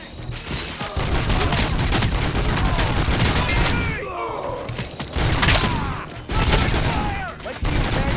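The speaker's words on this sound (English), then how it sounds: "The shotgun to be brought out." Shotgun fire in RoboCop: Rogue City, a video game, heard as loud, repeated booming blasts amid dense combat noise, with voices talking over the shooting.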